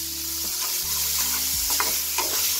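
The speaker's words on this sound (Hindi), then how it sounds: "प्याज को लाल करेंगे, साथ में हम थोड़ी सी हरी मिर्ची डाल देते हैं" Onions and green chilies frying in a pan for sarson da saag, a loud, steady close sizzle with scraping stirs and a low hum underneath, no talking.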